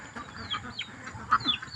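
Domestic ducks brought home on a small poultry farm, a short burst of near, raspy quacking and clucking calls over light rain ambience.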